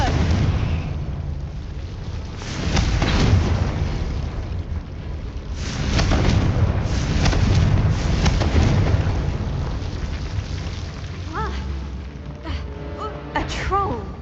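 Confringo spell explosions in Hogwarts Legacy roar as loud, rumbling bursts that swell and fade over a long stretch of battle, with gasps and voices mixed among the blasts.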